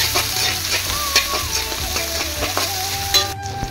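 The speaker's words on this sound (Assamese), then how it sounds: "পেষ্টটো অকণ ভাজি লওঁ" Ginger-garlic paste with green chillies sizzles and fries in hot oil for an Assamese pork curry, with steady crackling and stirring scrapes throughout, fairly close and loud, no talking.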